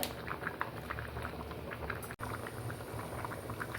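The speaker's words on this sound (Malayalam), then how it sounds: "ഇപ്പം കണ്ടോ നന്നായി തിളച്ച് വന്നിട്ടുണ്ട്" Curry bubbling steadily in a pot over a low gas flame, a continuous close simmer of small pops and gurgles that holds almost unbroken, cutting out only once for a split second.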